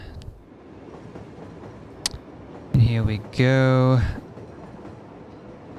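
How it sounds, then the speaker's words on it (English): Trains run in the city-building game Cities: Skylines, with two loud, near passes of rail rumble and clatter, one brief and one longer, while someone talks over a background of city noise. "I love listening to that. I love trains."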